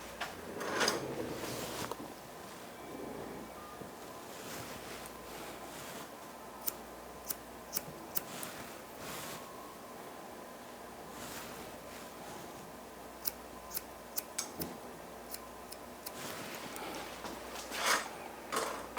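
Scissors snip straight across hair during a graduated haircut, a series of faint, crisp clicks spread irregularly over a quiet room background.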